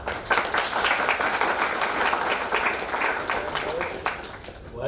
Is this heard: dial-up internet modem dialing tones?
no